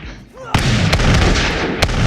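Gunfire and cannon fire in the video game Totally Accurate Battle Simulator, a dense loud barrage of booming blasts and crackling shots, with sharp explosions standing out over a continuous roar of battle and a voice speaking briefly near the start.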